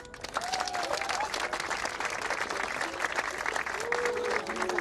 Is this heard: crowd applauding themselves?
yes